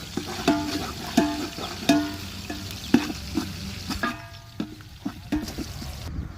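Onions frying in a large pan for a big batch of dry chilli chicken, with loud sharp spatula clanks every second or so over a constant close sizzle.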